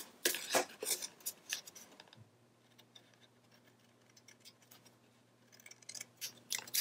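Dull scissors cutting paper for a scrapbook page, a run of close crisp snips, then a near-silent pause with a low hum, then more snipping.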